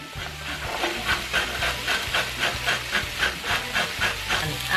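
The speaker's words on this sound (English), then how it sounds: "I'm gonna go ahead and shred my carrot on this side of my grater" A carrot is shredded on the coarse side of a box grater in a steady run of rasping strokes, close and even, with soft background music underneath.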